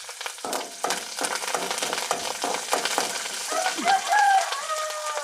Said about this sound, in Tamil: எல்லாத்தையும் போட்டு நல்லா வதக்கணும்